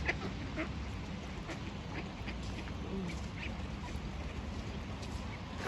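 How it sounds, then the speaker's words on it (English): Ducks quack repeatedly at a rainy park pond in Stord, Norway, with partly iced-over water, their calls set against a steady wash of rain and outdoor noise. "These ducks, they're walking together."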